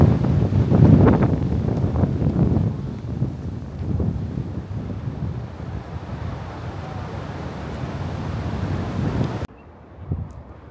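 Strong typhoon wind roars across snowy Taebaeksan mountain, a loud continuous gusting rush that swells early, holds steady, then drops off abruptly near the end.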